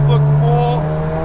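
A Mazda FD RX7 rotary engine hums at a steady moderate rev, loud and close, while someone talks over it.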